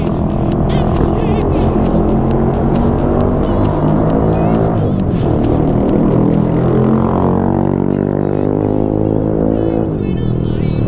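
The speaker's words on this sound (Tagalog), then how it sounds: "Maingay yung motor niya mga idol, naka-muffler." Motorcycle fitted with a loud aftermarket muffler passing close by on a road, its engine roaring steadily and rising then falling in pitch as it goes past over continuous traffic noise.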